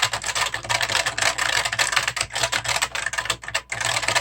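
Rapid, continuous typing on a mechanical keyboard with Futaba switches, a dense stream of crisp, loud, close keystroke clicks and clacks with no voices.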